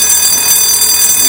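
A club's alarm is going off, a loud, steady high-pitched electronic tone sustained throughout with no break, with faint background movement beneath.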